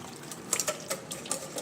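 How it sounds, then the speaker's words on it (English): Quick whisking of a lemon vinaigrette in a bowl, a light rapid clicking and swishing of the whisk against the sides, fairly faint and brief with no talk over it. "Let's whisk this together."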